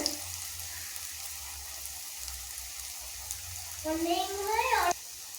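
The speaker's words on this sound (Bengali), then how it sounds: "তো এটা এক পাশ ভাজা হয়ে গেছে" Potato pakora frying in a pan makes a soft, continuous hiss and sizzle throughout, and a voice-like rising tone sounds briefly toward the end.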